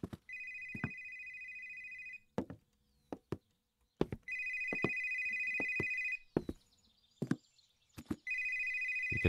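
A telephone in the horror video game Exanimum: The Silent Call rings in long repeated electronic bursts, separated by knocks and thumps, loud and clear with no talk over it.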